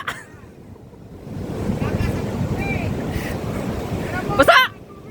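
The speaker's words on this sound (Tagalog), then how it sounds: "Lakas ng alon!" Strong sea waves surge and crash onto the shore, a loud roaring wash that builds after a quiet start, with wind buffeting the microphone and voices shouting briefly near the end.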